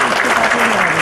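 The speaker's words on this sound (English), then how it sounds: "shall we all give a big clap to the great family of Dr." An audience at a felicitation ceremony breaks into a dense, even burst of applause, loud and close, clapping continuously for about a second.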